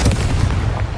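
Bombarda and Confringo spell blasts go off in the Hogwarts Legacy video game on PS5. A dense, loud, booming explosive rumble fills the whole second up close, with no break.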